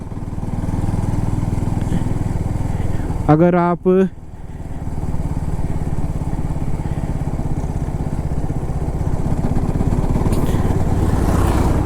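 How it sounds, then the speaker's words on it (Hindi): Engine of a KTM RC 200 GP Edition motorcycle running steadily in 5th gear with a faint knocking, a continuous close drone with a brief spoken word over it midway. "ये देखो नॉकिंग इंजन 20 पे करने लगा है"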